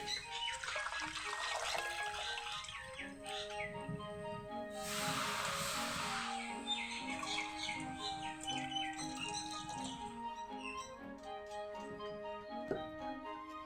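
Dabli greens are washed in water, a short burst of splashing, running-water hiss midway through under steady melodic music that plays throughout.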